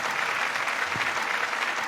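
Steady applause from an audience honoring a doctor at a ceremony, a dense, even patter of many hands clapping continuously at moderate loudness with no voices over it.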